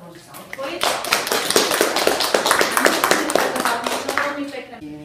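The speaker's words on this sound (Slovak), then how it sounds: "Výborne, potlesk" Schoolchildren in a class break into brief applause, a burst of many hands clapping close by for a few seconds, with a teacher's voice speaking over it.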